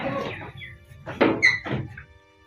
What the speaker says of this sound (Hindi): ये मैं आपको दरवाज़ा खोल के दिखाता हूँ।